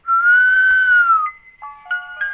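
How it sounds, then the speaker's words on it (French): A robot character in a video game whistles a long, loud, steady tone that ends with a few short, clipped notes. No voices are present. "le robot qui arrête pas de siffler"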